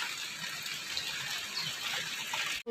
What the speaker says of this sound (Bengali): প্রচণ্ড জোরে এখন বৃষ্টি পড়ছে